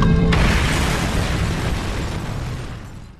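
A big explosion rips through a terrorist's house in a film scene, a loud broadband boom that hits at once and then rumbles and decays steadily over a few seconds.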